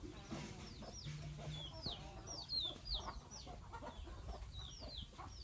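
Several chickens, kept on a sugarcane farm, cluck on and off, the calls short and chirpy, some nearer than others, over a faint outdoor background.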